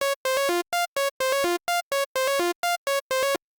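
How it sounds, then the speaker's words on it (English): A bright Serum synthesizer arpeggio of short, buzzy staccato notes stepping between a few pitches in a quick repeating pattern, then cutting off. "So the ARP sounds like this."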